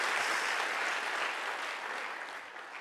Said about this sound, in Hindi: ताली बजाइए अपने लिए जोरदार बहुत